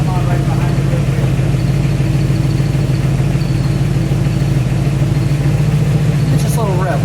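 A 1961 Chevrolet Corvette convertible with dual exhaust idles close by, its low, steady rumble running evenly and loudly the whole time, with a brief sharper sound near the end.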